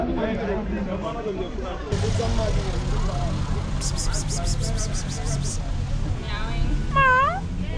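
A voice imitates a cat's meow among nearby chatter, followed by a short series of high beeps and a couple of rising squeaky mews.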